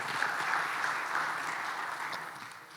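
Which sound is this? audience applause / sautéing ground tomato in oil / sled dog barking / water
audience applause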